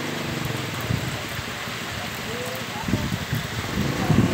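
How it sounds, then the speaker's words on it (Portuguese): Steady rain falls all day in rural Serra do Cabral, a soft continuous hiss of drops with occasional louder patter and splashes, fairly faint and without speech. "Chuva o dia todo aqui na Serra do Cabral."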